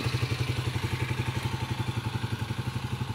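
A Skygo King 150 motorcycle engine idles steadily and close by, its fast, even pulsing beat running without a break and no voices over it.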